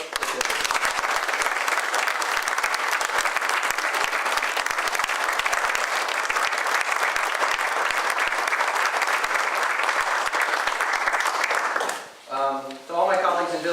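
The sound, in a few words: applause for Tivoli village workers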